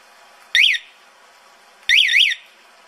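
An e-bike alarm triggered by a keychain remote sounds two warbling electronic chirps, loud and close. The first chirp is short and the second is longer, with a pause between them.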